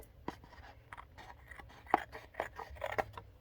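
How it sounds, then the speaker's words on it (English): Several short, crisp snips of scissors cutting paper, irregularly spaced, close and fairly quiet, with soft rustling between cuts. "just take my scissors and trim it."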